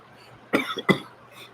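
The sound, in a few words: cough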